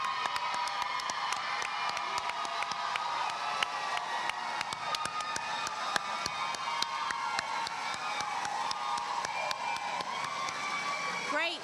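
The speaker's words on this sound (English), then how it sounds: "Let's give them a round of applause." Applause for honored schools at a school district celebration of excellence event, a dense, continuous crowd clapping with some cheering that holds steady throughout.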